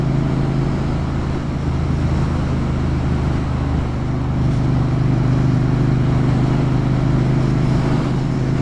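A brand-new Triumph T120 Black motorcycle on new suspension rides an unrepaired, rough road through Gates Pass, giving a steady, loud engine drone mixed with wind rush that runs unbroken throughout, with no talking.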